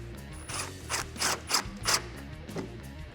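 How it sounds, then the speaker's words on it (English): Close, rapid ratcheting clicks in short bursts as a power tool with a 10mm socket drives a headlight bolt down on a 2012-2015 Toyota Tacoma, mechanical whirring between pulses. "Grab your 10mm socket and tighten it down."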